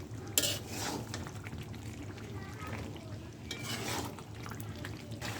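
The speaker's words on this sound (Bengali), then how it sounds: "দিয়ে ভালো করে নাড়িয়ে চাড়িয়ে নেব।" Stirring potatoes into a pot of beef curry with a spoon, giving soft, steady scraping and clinking against the pot with a louder knock near the start, under a faint background murmur.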